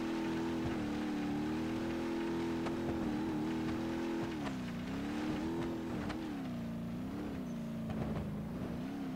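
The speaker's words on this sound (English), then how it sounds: "I'm gonna climb this mountain in my race car." Race car engine in the BeamNG Drive driving game climbing a mountain: a steady, fairly faint drone whose pitch dips and rises with the throttle, with scattered clicks and no voices.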